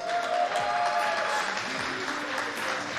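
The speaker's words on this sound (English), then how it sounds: "let's have a round of applause for our next match" An audience at a submission-only Brazilian jiu-jitsu tournament applauds steadily, a dense, even wash of clapping that stays loud for the whole stretch.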